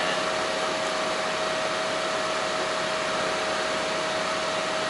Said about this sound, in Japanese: エアコンのファン交換しました。